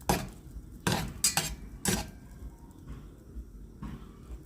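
A utensil stirs eggs in a pan to scramble them for a rolled rice breakfast with spam and nori: a few sharp metallic clinks and scrapes up close, then softer intermittent scraping, with no talking.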